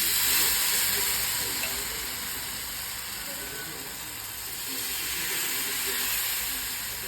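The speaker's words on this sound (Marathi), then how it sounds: "तव्यावरती तेल टाकायचं आहे आणि हे बॅटर टाकून द्यायचं" Jowar batter dhirde sizzling in oil on a hot griddle, a steady, hissing fry that swells and eases slightly, carrying on alone without talk.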